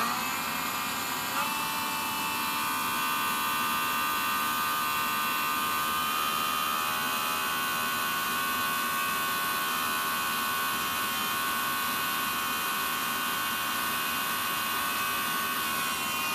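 A small brushed motor on an ASK-21 UMX RC glider runs at full thrust, a thin, steady high-pitched whine close by over a low background hum, holding constant after a brief step up near the start.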